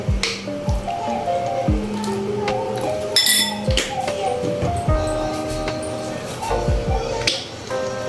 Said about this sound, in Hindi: तो 2 चम्मच इसमें सिरका डालेंगे